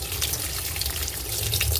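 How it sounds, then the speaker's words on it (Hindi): Cleaned food is put into a bowl of cold water in a home kitchen, giving a steady splashing, running-water wash with no pauses. "और अब इसको मैं डालूँगी ठंडे पानी में।"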